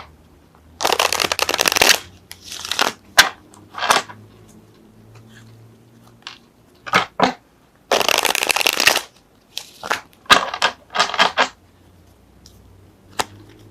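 Tarot cards are shuffled and drawn close by in quick riffled bursts, with longer shuffles and short single snaps of cards set down, separated by near-silent pauses.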